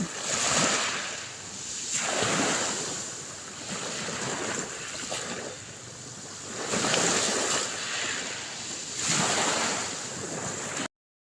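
Ocean waves break against small stones on a beach at Mainit Beach Resort in Pasacao, Camarines Sur. The surf comes in loud, steady surges about every two seconds, with a bright hiss as each wave washes over the pebbles. No voices are heard.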